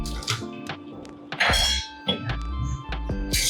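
Mutton pieces tipped into bubbling masala in a kadhai, heard as a quick run of close metallic clatters and knocks over a steady background hum.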